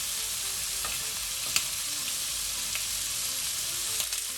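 Pork belly slices fry in a pan over medium-low heat, giving a steady, even sizzle with a couple of faint clicks, close up and without talk.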